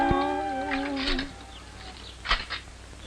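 A voice imitates a cat's meow, a drawn-out wavering cry, followed by quieter sounds and a brief sharp noise.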